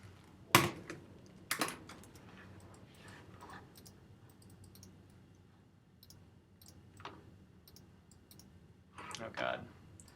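Computer mouse clicks while drawing and rotoscoping video in Photoshop: a few sharp, close clicks early on, then sparse fainter taps and a small cluster near the end against a quiet room background.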